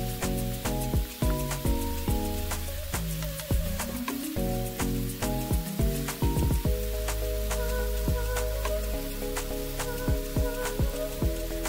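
Steak browning in a frying pan gives a steady crackling sizzle, partly buried under louder music with sustained tones and sharp percussive hits throughout.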